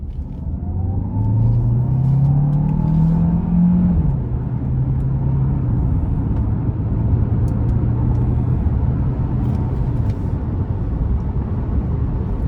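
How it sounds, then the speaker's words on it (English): A 2025 Hyundai Santa Fe Hybrid SEL pulls away under hard acceleration, a steady loud low rumble with engine note rising over the first few seconds then holding, heard from inside the cabin with no talking. "that initial grunt you get is so nice because you have that torque from the electric motor"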